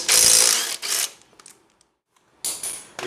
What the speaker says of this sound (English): So we'll go ahead and take our wheels off.